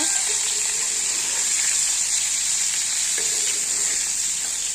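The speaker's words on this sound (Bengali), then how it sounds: "দেখো বন্ধুরা ফুলকপি আলুটা ভাজছি" Cauliflower and potato fry in a pan of oil with a constant close sizzle and soft crackle, steady and unbroken.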